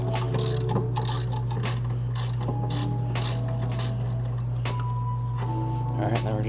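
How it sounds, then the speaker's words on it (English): Mechanical clicks and ratcheting from an 8 mm Allen key loosening a top bolt on a VW Jetta during a wheel bearing replacement, irregular metallic taps over a steady low hum throughout. "And now we're gonna remove that other bolt on the top here. These are an 8 millimeter Allen key."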